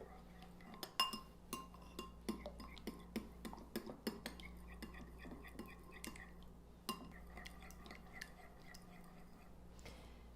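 Marinara sauce and extra virgin olive oil stirred together in a bowl, with soft, quiet clinks and scrapes of a utensil recurring at an irregular pace under a low background hum.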